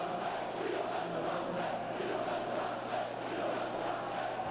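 A big, sustained roar from the True Blue Trevian student section at a New Trier versus Highland Park elite eight basketball game, a dense crowd noise that stays steady throughout.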